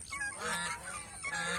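Geese honk loudly at close range on a goose farm, giving two or three drawn-out, nasal calls in quick succession with no voices.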